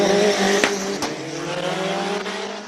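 McLaren race car at a purpose-built hillclimb course in Cape Town, engine roaring loud and steady under harmonic drone with brief sharp bursts, tire squeal hinting through.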